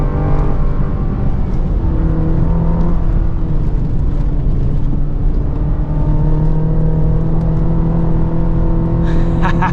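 A 2024 GMC Canyon AT4X AEV Edition truck engine held at high revs in low gear while driving off road, a loud, steady near drone with shifting pitch throughout, plus faint rattles near the end.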